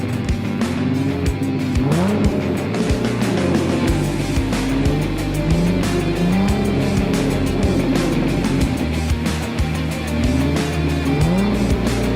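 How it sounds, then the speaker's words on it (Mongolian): A drift car on a drift track, its engine revving and wailing up and down loudly while tires squeal in long repeated bursts, close and continuous. "За одоо хэдүүл хамтдаа дрифт хийцгээе."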